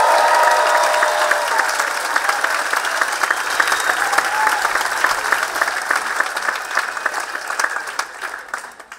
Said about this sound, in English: rather than holding your applause until the end, I invite you to express your support and enthusiasm whenever you feel so inclined